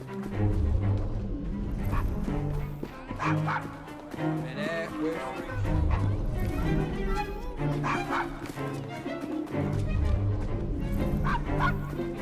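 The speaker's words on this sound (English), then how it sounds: "Nice doggy." A dog in the video game Assassin's Creed Syndicate barks repeatedly in loud, close bursts, mixed with whimpers and game sound effects.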